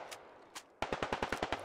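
Automatic gunfire in the video game Squad aimed at an MRAP vehicle: two sharp shots, then a rapid burst of about eight evenly spaced rounds, crisp and fairly close, with no talk over it.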